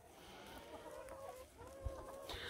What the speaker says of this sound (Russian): Вот так вот у курочек сейчас обед происходит